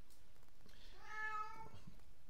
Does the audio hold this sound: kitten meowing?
yes